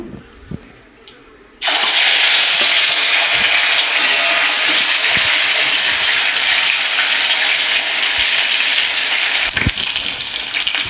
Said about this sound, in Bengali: মাছের তেলটা ভেজে নেবো